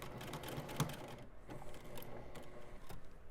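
A sewing machine runs a long basting stitch along a seam on a fabric bag where striped and solid panels meet, a steady quiet mechanical whir with light rhythmic needle clatter throughout, close and unaccompanied by talk.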